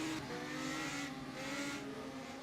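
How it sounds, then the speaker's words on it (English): Race cars in the rFactor 2 racing sim do burnouts on the straight at Blackwood, giving a steady loud engine drone with tire squeal and a rising, falling rev that never lets up. "Burnouts down the straightaway."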